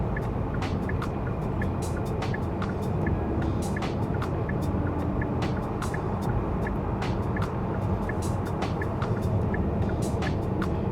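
Constant road roar fills the cabin of a Kia Sorento 2.2 diesel cruising in heavy highway traffic, with a large truck alongside, and regular faint clicking ticks repeat over the steady rumble.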